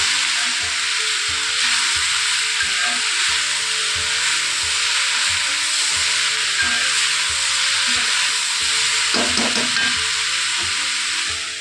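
Mixed vegetable sabzi with salt sizzling in a pan while being stirred, a steady loud frying hiss with scraping spoon strokes throughout and a brief clatter near the end.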